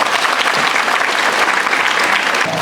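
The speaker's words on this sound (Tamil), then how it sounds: "ராணி மெய்யம்மை மேல்நிலை பள்ளியில் உள்ள அத்தனை பேருக்கும் என்னுடைய சார்பாக ஒரு பெரிய கைதட்டல் தரும்" A school audience at Rani Meyyammai Higher Secondary School claps in a big, loud round of applause, with dense, continuous clapping filling the whole stretch.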